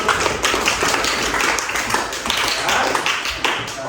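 A class of children claps together in a steady, dense patter of many hands that runs unbroken and fairly loud for several seconds, with no talk over it.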